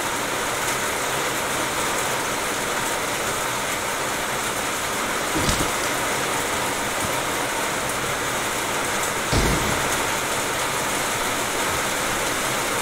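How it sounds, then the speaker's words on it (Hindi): Steady hiss of rain in the mobile game PUBG Mobile, constant and even throughout, with a couple of brief dull knocks in the background. "आवाज, बारिश का आवाज हो रहा है।"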